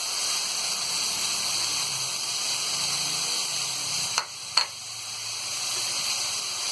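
Potatoes and crushed red chili fry in a pan with turmeric, giving a steady close hiss of sizzling oil throughout, broken by two brief scraping stirs near the end.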